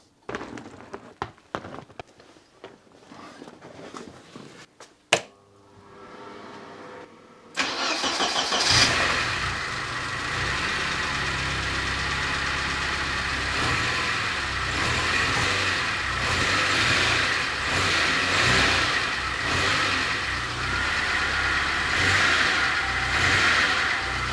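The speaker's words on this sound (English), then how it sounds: "Let's try to fire up this car." Porsche 924 starting after several seconds of quiet clicks and knocks, catching abruptly and running with a loud, steady rumble that swells slightly as it is revved, without any talking.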